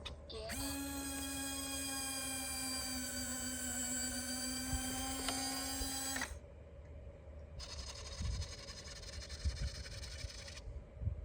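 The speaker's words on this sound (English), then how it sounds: "Listen to this landing gear. And these go up and down." Retractable landing gear on a Freewing MiG-29 RC jet cycling, a close whining electric servo hum with a steady buzzy tone for several seconds, a pause, then a second shorter run.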